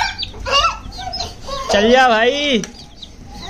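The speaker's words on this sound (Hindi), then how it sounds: "ये भाई हमारे पांच चूजे अंदर आ गए" Newly bought chicks chirp and cluck close by in short bursts, with someone speaking briefly among the calls.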